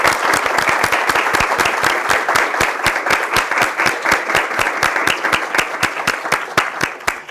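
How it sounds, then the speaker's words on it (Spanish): Theatre audience applauding after a talk on creative processes at Teatro Eslabón, loud steady clapping with many sharp, closely spaced hand claps, near and continuous throughout. "Propongo un aplauso."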